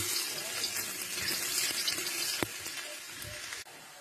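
Garlic frying in hot cooking oil, a continuous bright sizzle and crackle close up with a few sharp pops and clicks of a utensil, ending in a sudden drop in level.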